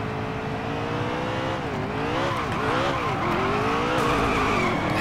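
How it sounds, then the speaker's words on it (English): Race car in NASCAR Heat 3 doing a burnout at Bristol at night, engine roaring steadily with wavering pitch over sustained, loud tire squeal throughout. "Hell yeah, I want to do a burnout."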